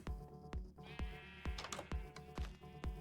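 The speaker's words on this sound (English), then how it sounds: "a bunch of sheeps. I want to move these guys out. They're extremely noisy." Sheep in a Minecraft survival world bleat repeatedly, with sharp regular bursts roughly every half second over a steady background hum, several animals close by and loud.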